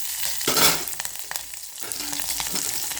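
Green chillies and garlic fry in hot oil for horsegram saaru, giving a steady close sizzle with crackles and scraping stirs throughout, no voices.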